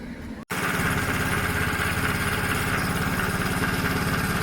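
A Sinnis motorcycle engine starts up after a brief gap and settles into a loud, steady idle, close by, with a rapid even putter under a buzzy exhaust drone and no talking.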